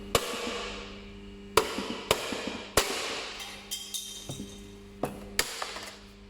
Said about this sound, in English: I've got a baby hammer, let's see what this does.